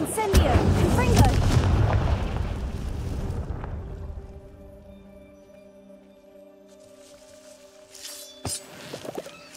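Confringo fire spell blast in Hogwarts Legacy: a loud, booming burst that rumbles and fades over several seconds, followed by quieter game ambience and a few faint later impacts.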